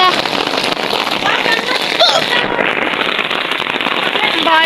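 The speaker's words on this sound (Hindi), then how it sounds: "बारिश हो रही है, देखें जी" Heavy rain pours down steadily outdoors, a dense continuous hiss of drops striking surfaces close by, loud throughout with faint voices under it.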